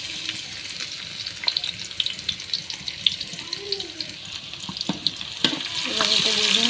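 Dried chili and garlic sizzling in hot oil in a wok, a steady crackling fry with occasional stirring clinks and scrapes, growing denser toward the end.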